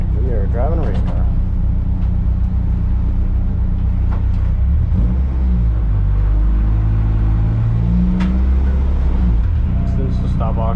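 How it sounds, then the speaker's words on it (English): A tuned 8th-gen Honda Civic Si race car drives an autocross course, engine droning loud and steady with rises and dips in pitch as it accelerates and slows, while a voice talks over it. "Driving a race car."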